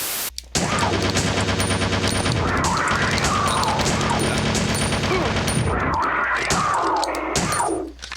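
Rapid gunfire in the Resident Evil Survivor video game, dense bursts of repeated shots and booms filling the whole stretch with brief gaps, loud and close over game sound effects.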